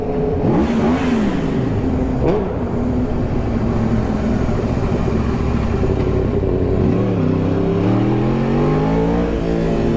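A powerful superbike engine roars and revs hard, pitch climbing and falling through repeated throttle bursts, loud and close without pause.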